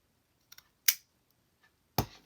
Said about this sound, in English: I love that sound that my pinking shears make.